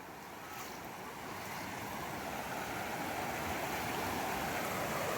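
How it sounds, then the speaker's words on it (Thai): Heavy, steady rush of Huai Chan waterfall flowing strongly, a broad continuous roar that swells slightly and holds loud throughout, with no voices. "โอ้โหคุณผู้ชมดูน้ำครับไหล แรงจริงๆ ครับ"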